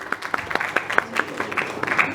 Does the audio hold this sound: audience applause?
yes